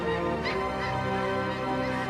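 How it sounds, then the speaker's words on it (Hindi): A dense flock of migrating geese or similar waterfowl calls over the Mississippi River, a continuous steady mass of honking and cackling with no pauses, loud and close. "तरह तरह के ये पंछी उत्तर से दूर जा रहे हैं।"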